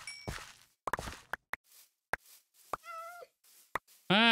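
A cat meows a few times in the video game Minecraft, short near mews between soft footsteps and quiet gaps, ending in a louder drawn-out yowl.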